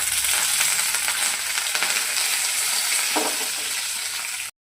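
Curry leaves crackle and sizzle in hot tempering oil for cumin rice, a dense steady frying hiss with small pops, close and fairly loud, ending abruptly.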